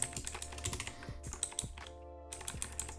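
Computer keyboard keystrokes for copy and paste, a quick irregular patter of sharp clicks close to the microphone, with a brief pause and the clicking then resuming, no voices.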